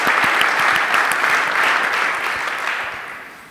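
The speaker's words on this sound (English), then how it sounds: "please, a round of applause to welcome everybody." An audience claps steadily and fairly loudly to welcome a conference panel on cloud native technology, dense applause that slowly fades.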